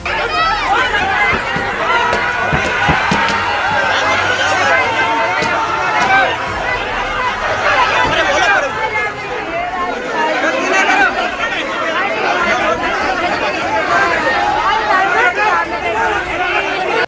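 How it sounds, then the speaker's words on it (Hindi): An angry crowd vents its fury at police and attacks a police jeep: dense, loud shouting and babble of many voices, continuous and close throughout. "पहले देखिए भीड़ ने कैसे अपना गुस्सा निकाला है"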